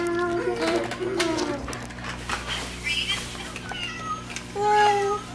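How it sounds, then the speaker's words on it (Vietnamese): A cat meows a few times at close range, short tonal calls heard between and under a family's chatter indoors. "Mèo sao?"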